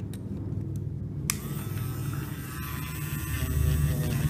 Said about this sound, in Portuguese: Vou tocar de broca, tá?